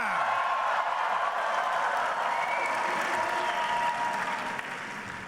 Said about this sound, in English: How about a little cheer?